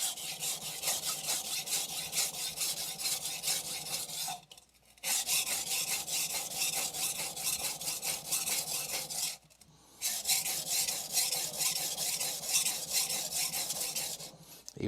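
A Shirogami 2 steel nakiri knife is sharpened on a coarse Shapton Glass 500 whetstone, giving a loud, rough rasping scrape in long continuous runs, broken by two brief pauses as the blade is flipped.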